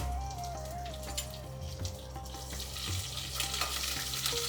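Curry leaves and green chillies sizzle and crackle steadily in hot oil for carrot rice, with a continuous close frying hiss and occasional stirring scrapes.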